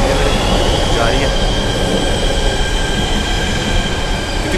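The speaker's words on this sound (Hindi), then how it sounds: "मेरी मेट्रो अच्छी लगी है जा रही है" Delhi Metro train running on the line, a steady close rumble with high wheel squeal tones, continuous through the whole stretch.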